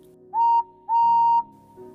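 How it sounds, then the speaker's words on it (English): A person whistles two clear rising notes, a short one followed by a longer held tone, over a quiet low hum in the background. "He then felt better and whistled."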